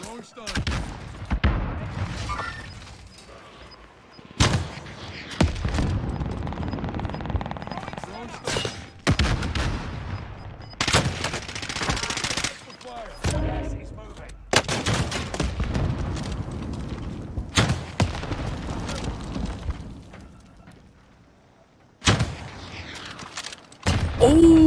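Gunfire and explosive blasts in the Call of Duty game on Rebirth Island, including rockets, come in repeated loud bursts separated by short pauses, with excited talk over the action.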